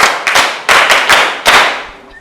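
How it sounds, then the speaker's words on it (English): A short burst of applause from a group, several bright sharp claps in quick uneven waves, loud and close, fading out at the end. "Shall we clap for her?"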